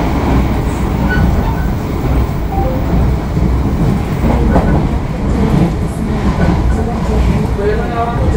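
Argo Sindoro passenger train running between Cirebon and Semarang, heard from inside the carriage as a steady loud rumble with faint rail clatter, while a person talks over it.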